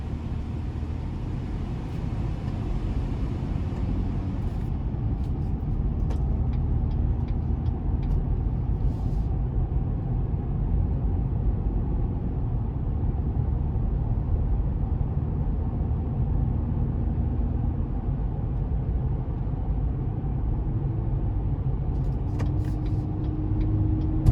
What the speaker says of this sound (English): But you definitely have that road noise.